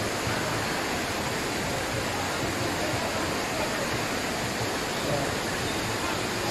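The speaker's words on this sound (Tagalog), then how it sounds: "So malakas yung buhos ng tubig." Majayjay Falls in Laguna sends strong pouring water down in a loud, continuous, full-bodied roar that holds steady throughout, with no breaks.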